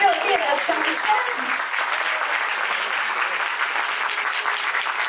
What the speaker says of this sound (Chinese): 每次是要给我们双方的外婆一点热烈的掌声。